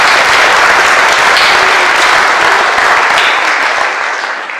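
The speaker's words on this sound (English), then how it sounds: "So a huge round of applause for them." Loud, dense applause fills a hall at the 2023 Clarenville Campus graduation ceremony, holding steady and then tapering off at the end.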